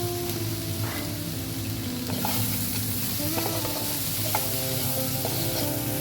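Sliced mushrooms sizzle and fry in a pan while a utensil stirs and scrapes them steadily, a close, continuous crackle with occasional clinks and no talking.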